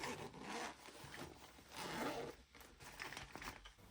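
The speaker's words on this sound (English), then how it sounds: "It's got this expandable zip area so that I can cram everything in it." A zipper runs along the expandable zip area of a pencil case packed for urban sketching, giving several close, scratchy rasping pulls with short pauses between them and no talking.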